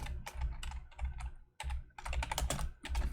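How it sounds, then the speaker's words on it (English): Fast typing on a computer keyboard during a League of Legends coaching session, close and loud, with dense bursts of key clicks broken by a couple of short pauses. "Why am I typing so slow?"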